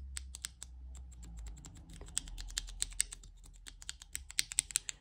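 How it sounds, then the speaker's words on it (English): Clicking keycaps on a small 3D printed keycap tester, held near the microphone: a busy run of sharp, close taps and clacks, irregular in rhythm and growing louder and more spaced toward the end, with a low hum beneath. "I will hold it near my microphone so you can hear the different kind of keycap noises"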